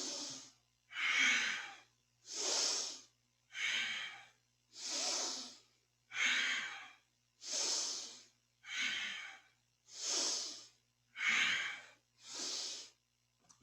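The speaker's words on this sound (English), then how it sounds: "Try inhaling up and exhaling down." Steady, deliberate breathing during a Kundalini yoga spine-flexing movement, with about ten long breathy whooshes in an even rhythm separated by brief pauses, close and clear with no talk.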